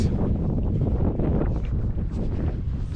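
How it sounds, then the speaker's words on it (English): Strong wind buffeting the microphone atop Mount Douglas in Victoria, British Columbia, a continuous loud rumbling roar with gusty swells and no voices. "It was quite windy"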